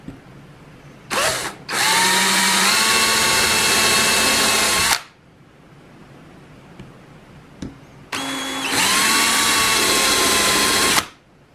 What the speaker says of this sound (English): So I'm just going to take a countersink bit, and we're going to countersink